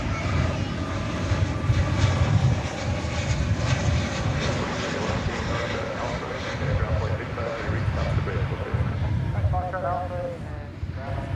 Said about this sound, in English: Spirit Flight 2519 touching down from San Jose, California, an Airbus A320 Neo.